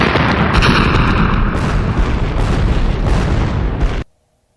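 Grenade explosion in a movie scene, a loud, dense, rumbling blast that roars for about four seconds before cutting off abruptly into silence.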